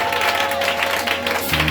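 A church congregation claps in steady, dense applause throughout, with a low tone rising underneath near the end.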